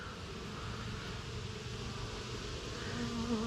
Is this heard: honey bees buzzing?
yes